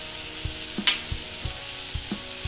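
Tomatoes cook down with pav bhaji masala in a pan for street-style masala pav, giving a steady close sizzle with a spoon tapping and scraping at a regular pace, and no talking.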